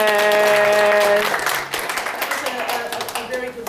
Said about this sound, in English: If you'd just like to give yourself a clap.